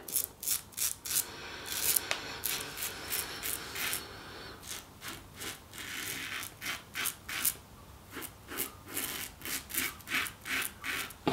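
Close, rhythmic rasping strokes of a Parker 65R safety razor with a new Gillette blade dragging across stubble, repeated steadily with brief pauses between passes.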